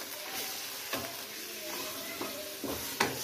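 Minced chicken fries with garlic powder in a pan, a soft hiss broken by a few brief scraping stirs of a spoon, fairly quiet and close, no talking.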